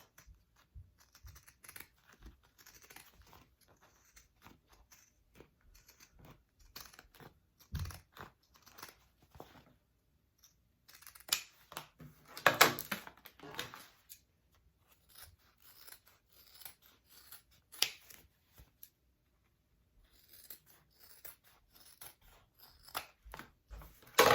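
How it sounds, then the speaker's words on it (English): Pinking shears trim fabric along the curves of a small crossbody bag, making faint, scattered crisp snips with quiet pauses and a louder cluster of cuts midway. "I'm going to use my pinking shears along my curves"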